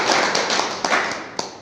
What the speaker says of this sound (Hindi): सभी अचीवमेंट के लिए एक बार जोरदार ताली हो जाए